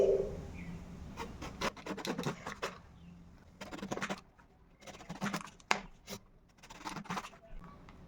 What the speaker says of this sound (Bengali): এইরকম মিডিয়াম করে আমি গোল গোল করে বেগুনটাকে কেটে নিচ্ছি